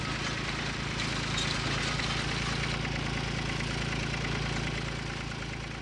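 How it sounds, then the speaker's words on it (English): Crofters' corn-cutting machine running through a harvest field, a steady, loud mechanical engine drone with a fine rhythmic clatter, continuous and close throughout. "The crofters' machines are designed to cut in one direction only, and they can operate only when the stems of the corn lie properly for the cutter."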